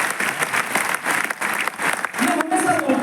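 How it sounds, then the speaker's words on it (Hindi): An audience applauds loudly at a talk or seminar, a dense clatter of many hands clapping that continues throughout, with a voice coming in toward the end. "जोरदार ताली होनी चाहिए।"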